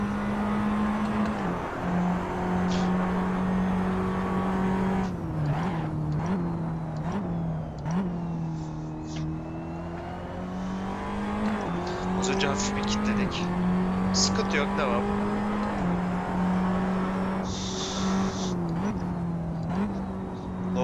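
A Formula 4 race car lapping the Red Bull Ring, its engine droning steadily with rising and falling pitch through gear changes and braking, loud and continuous throughout while a driver talks over it.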